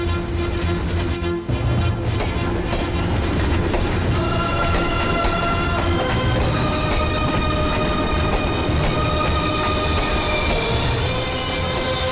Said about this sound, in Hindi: वो देखो ट्रेन आ रही है।